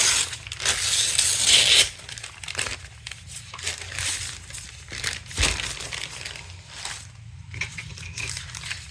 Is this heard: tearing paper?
yes